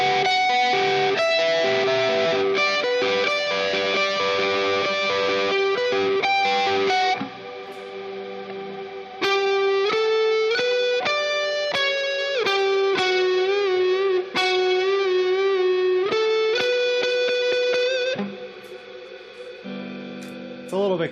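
Electric guitar played through a Tube Screamer overdrive pedal, sustained distorted chords and ringing melodic notes, loud and continuous with brief dips, no talking.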